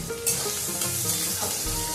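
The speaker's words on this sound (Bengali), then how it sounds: "এরপর আমি সেই কুচনো পেঁয়াজটা দিয়ে দিচ্ছি। পেঁয়াজটা আমি খুব ভালোভাবে ভেজে নেব, একদম ব্রাউন করে।" Chopped onions fry in a pan for a Bengali chicken curry, giving a continuous close sizzle with a few light stirring scrapes and no talking.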